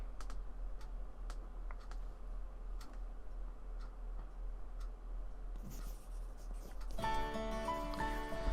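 A pencil writes answers on a test paper, with short scratching ticks at an irregular pace over a low hum, and music rises near the end.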